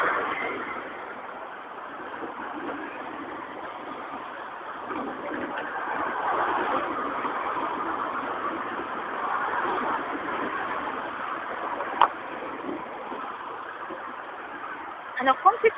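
A car engine idles at a red light in polluted street traffic, a steady low rumble lasting throughout with broadband traffic noise, a few sharp clicks near the end.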